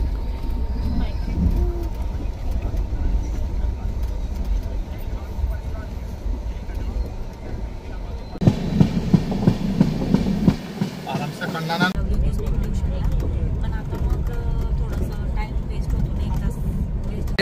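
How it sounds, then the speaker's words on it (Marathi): A train passing near Nashil, heard from inside a moving passenger coach as a steady low rumble with rhythmic clattering, a brief louder burst midway, and people talking over it. "जुगजुग गाडी बघा गाईस, जुगजुग गाडी."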